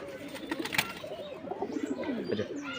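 A pigeon coos softly and repeatedly at close range while paint is being applied to a Kaldum pigeon's body, with faint rustling and a brief flutter early on.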